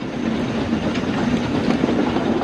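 A toy steam train rumbles past steadily and fairly loud, a continuous rolling roar with a low hum and faint rhythmic rattling throughout.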